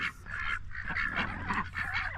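Several ducks quack and honk close by in a busy, overlapping chorus, loud and continuous over a low outdoor rumble.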